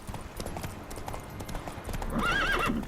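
A horse in The Witcher 3 video game gallops with a rapid, rhythmic clip-clop of hooves, then lets out a loud, high whinny near the end, close and prominent with no speech.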